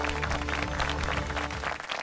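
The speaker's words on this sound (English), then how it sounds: "Can we have a round of applause for her?" An audience at an award ceremony claps steadily for a winner, a dense, fairly loud wash of applause that holds throughout and fades slightly at the end.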